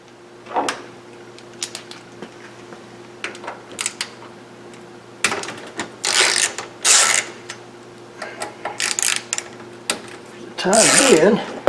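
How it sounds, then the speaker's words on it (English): Screws being loosened on the gray hinged panel of an ACOPOS 1320 servo drive, heard as faint intermittent metallic clicks and ratcheting turns with bursts of handling noise and louder scraping toward the end. "let's see if just loosening up these screws right here will allow us to unhinge that gray panel"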